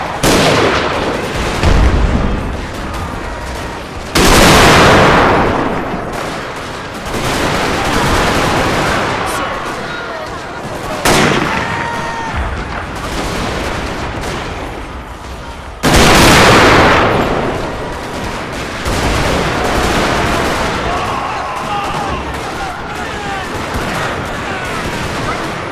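Musket volleys and artillery fire in a Total War game recreating an 1863 American Civil War battle, dense continuous crackling gunfire with heavy booming cannon blasts repeating every several seconds, loud and close.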